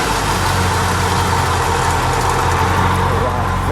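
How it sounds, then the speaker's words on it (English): A 1979 Aston Martin V8 Volante's V8 exhaust idles with a deep, steady rumble, a throaty low exhaust note, loud and close throughout. "we'll let the exhaust idle"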